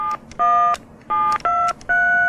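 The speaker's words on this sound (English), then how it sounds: "after you've entered your code number, you're allowed to dial any number in England, New Zealand, or Australia" A late-1990s telephone keypad dials touch-tone digits, five or six crisp loud dual-tone beeps in quick uneven succession, close and clear with no talk.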